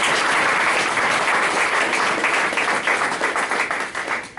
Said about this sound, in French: Il faut applaudir nos étudiants qui sont là.